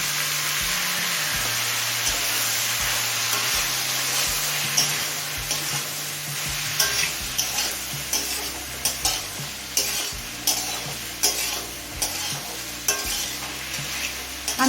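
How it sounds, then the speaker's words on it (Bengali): Mixed vegetables and shrimp heads frying in a pan over medium flame, a loud continuous sizzle up close, with rhythmic scraping strokes of a spatula stirring throughout. "চিংড়ি মাছের মাথা দিয়ে আরও মিনিট খানিক ভেজে নিলাম"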